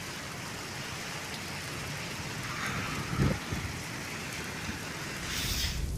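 Heavy rain falls in Hinjewadi, Pune, a steady, dense hiss of rain on the ground throughout, with a brief low thump in the middle.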